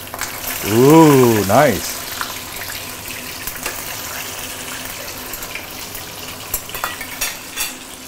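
Kampung fish is flipped in hot oil and sizzles steadily after the turn, with a short burst of speech at the start and light scraping and clatter.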